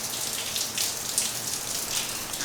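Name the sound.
rain falling outside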